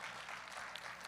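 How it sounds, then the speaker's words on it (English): An audience applauds at a powerlifting meet, a dense and steady patter of clapping hands from a crowd for a brief moment. "Give him a round of applause for his military service first."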